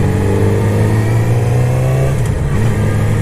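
Yamaha R6 sport motorcycle accelerating in its A riding mode, a loud, close engine drone with strong steady harmonic tones and no talking.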